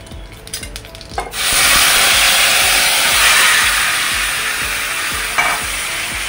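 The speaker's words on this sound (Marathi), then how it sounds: "थोडा ढवळून घ्यायचा" Mashed ripe mango curry being stirred in a pot: a few soft scrapes and taps, then a loud steady hiss of simmering or frying beneath rhythmic spoon strokes, close up with no talk.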